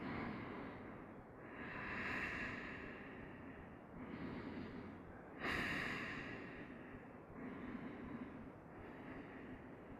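Slow, deep breaths are taken while a yoga standing pose is held, with each soft inhale and exhale rising and falling at close range in a quiet room.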